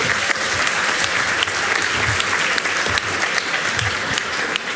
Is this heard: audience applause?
yes